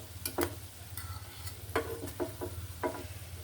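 Papaya pakoras frying in hot oil, a steady low sizzle with occasional stirring clatters and bubbling pops, close and alone.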